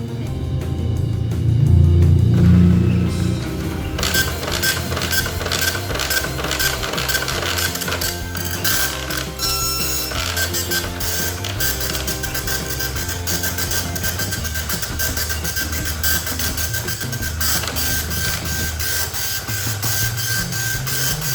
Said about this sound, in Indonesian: Oke, kita tes print.